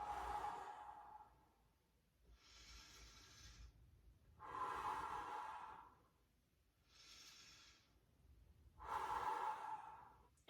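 Deep, slow breaths during a lotus-pose yoga session: three soft inhale-exhale cycles, each a close, breathy hiss swelling and fading with quiet pauses between, no talking.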